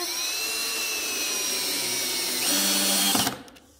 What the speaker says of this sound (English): So next I am going to go ahead and screw this in with the drill.